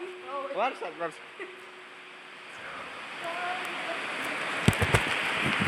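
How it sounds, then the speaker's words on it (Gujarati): Rain falls in a steady hiss that grows through the clip after a few brief voices, with a few louder splashes or knocks near the end. "વરસાદ"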